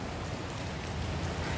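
Steady rain falling outdoors while someone exercises, a dense, even hiss of drops filling the whole stretch with no breaks and no voices.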